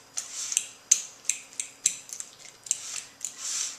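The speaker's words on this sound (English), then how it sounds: "Just going to kind of coarsely mash our avocado so that we don't just have big chunks" Soft, squelchy mashing of ripe avocado in a bowl for mango guacamole, a series of about ten close, moderately quiet strokes with a utensil scraping against the bowl in an irregular rhythm, with no voice over it.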